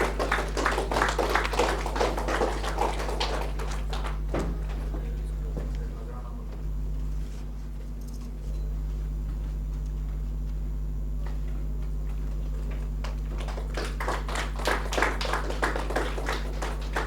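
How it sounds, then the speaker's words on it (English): Audience applause at a social impact event in Goa, with a dense patter of clapping at the start and again near the end, over a steady low hum and a quieter stretch between. "Huge round of applause for Firoz Sheikh."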